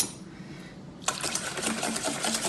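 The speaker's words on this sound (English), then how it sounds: "we're gonna add this to the active dry yeast with the kosher salt and the sugar. That's gonna go inside and we're gonna whisk" A whisk beats active dry yeast, kosher salt and sugar in liquid for semolina pizza dough. After a quiet second, the rapid, steady clicking and clinking runs close-up and continuously.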